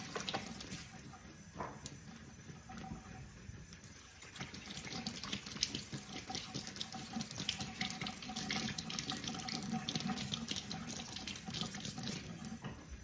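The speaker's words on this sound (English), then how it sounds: "I like just rubbing them like this with my hands." Steady running tap water splashes into a sink as tomatillos are rubbed clean by hand, a continuous close wash of water with no talking.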